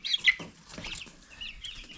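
A Jubilee Orpington hen makes soft, close clucks and small chirping calls in short irregular bursts, with light rustling and brief wing movement around her.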